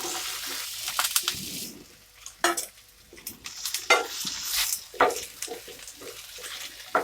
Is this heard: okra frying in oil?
yes